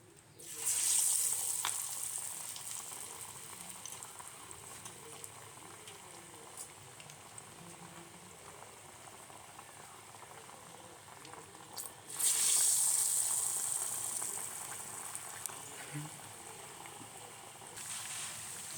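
Vadas frying in hot oil with a steady, moderate bubbling hiss that runs throughout, swelling louder near the start and again midway, with faint background sounds and no talking.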